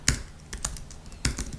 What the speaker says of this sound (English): I'm just going to type React Native.